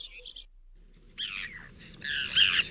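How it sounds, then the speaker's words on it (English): Recorded bird calls play back: a few short high chirps, a thin sustained whistle, then a busier burst of bright twittering, fairly faint and alone. "BirdTab features high-quality images and authentic bird sounds from various species around the world."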